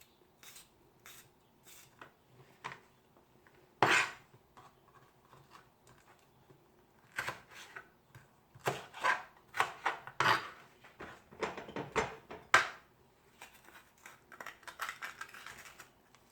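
A knife chops vegetables for chicken chow mein on a board: sharp, close taps come in scattered single hits and then quicker bursts, separated by quiet pauses.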